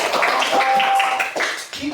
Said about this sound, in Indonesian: untuk kelompok 2 tepuk tangan